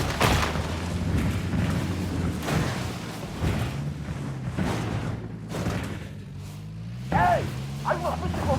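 Cartel gunmen open fire in Ghost Recon Wildlands, a series of muffled booming shots spaced a second or so apart. Voices talk over the shooting, and it grows quieter toward the end.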